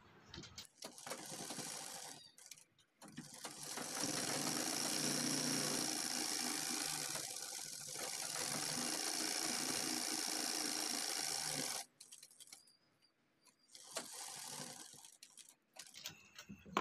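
A sewing machine stitches the lining onto a shirt collar in long continuous bursts of whirring, rapid needle rattle, with short pauses between runs and a few quieter stretches and clicks.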